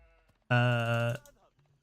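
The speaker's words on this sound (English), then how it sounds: "There's a sheep just following him randomly." A single loud sheep bleat in a video game, a sustained wavering cry of about two-thirds of a second, heard close with quiet game sounds before and after.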